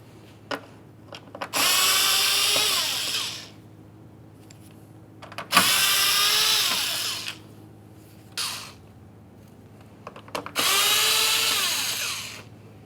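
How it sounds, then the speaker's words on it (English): A power drill backs Phillips head screws out of a Ford Transit Connect front grille, with three sustained whirring runs separated by pauses and short clicks, close and clear with no talking. "Remove all of your Phillips head screws"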